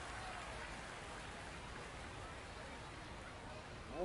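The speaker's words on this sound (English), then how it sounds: "Getting a little few spits of rain here and there here at the ballpark." Light rain spits down at a minor-league baseball park, a soft, steady hiss of scattered drops under the open-air ambience of the stadium crowd.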